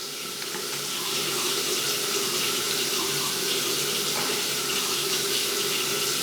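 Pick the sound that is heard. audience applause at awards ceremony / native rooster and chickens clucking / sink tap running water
sink tap running water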